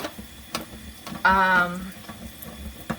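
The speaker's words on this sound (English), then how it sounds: "Now I'm draining it, taking the liquid out of it." Liquid drains out of an opened can in a short gurgling pour lasting about half a second, set among faint kitchen clicks and handling noise.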